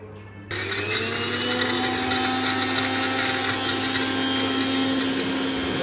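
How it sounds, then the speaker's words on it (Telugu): Green chillies and salt are ground in an electric chopper, which starts abruptly and runs as a loud, steady whirring drone close by for several seconds. "ఇది దీంట్లో పచ్చిమిరపకాయలు, ఉప్పు కలిపి చేస్తున్నాం. ఎంత మంచిగా గ్రైండింగ్ చేస్తుందంటే"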